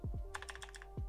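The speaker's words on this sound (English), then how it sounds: "So I will type create" A few close keystrokes on a computer keyboard while entering a terminal command in VS Code, quick clicks in a short burst with no talking.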